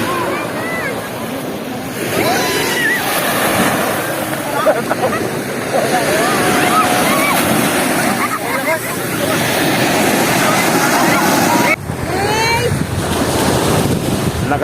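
Sea waves wash up on a beach shore, a loud continuous surf roar with strong wind buffeting the microphone, while a person talks over it throughout.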